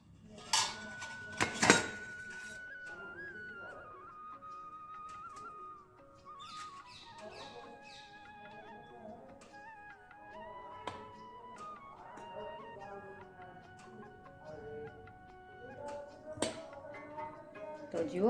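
Wheat flour is measured into bowls for an eggless cake batter, with scattered clinks and scrapes of steel bowls and spoons, a few sharp knocks, and soft kitchen handling noise throughout.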